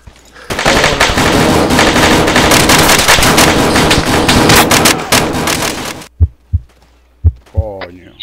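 Sustained automatic gunfire in the military shooter game Arma 3, a loud dense burst lasting several seconds, then a few separate heavy shots with a voice speaking between them.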